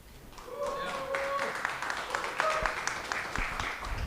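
An evening sponsor event audience answers with cheering and applause, a swell of clapping and voices rising and holding, with a speaker's voice carrying over the crowd.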